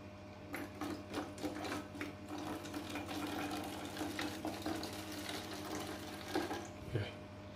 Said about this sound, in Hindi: ये देखें मैं थोड़ा थोड़ा पानी करके इसको पानी की बोतल को भर लेता हूँ